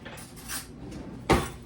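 A spoon is picked out from among metal kitchen utensils while a winter salad dressing is prepared, giving a few faint clinks and then one sharper, louder clatter near the end, with no talking.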